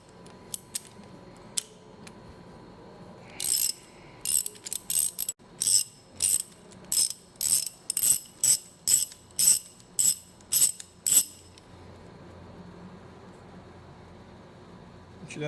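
Metallic ratcheting as a wrench backs bolts out of the cover of a worm gear reducer during disassembly, a run of a dozen evenly spaced clicks after a few scattered taps, close and fairly loud.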